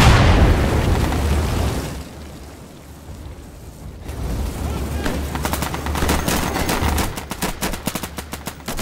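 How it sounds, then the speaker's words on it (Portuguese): Automatic gunfire in the video game Insurgency, Market map, checkpoint co-op mode: loud, dense bursts of rapid shots and booming blasts, with sustained rattling fire building toward the end. "nem sei pra onde eu tô atirando"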